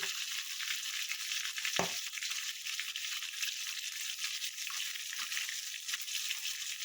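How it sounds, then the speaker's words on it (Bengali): Tilapia fish frying in a pan gives a steady, close sizzle with a sharp scrape or stir near two seconds and small pops scattered throughout. "আমার প্রায় 1 পিঠটা ভালো মতন ভাজা হয়ে এসছে"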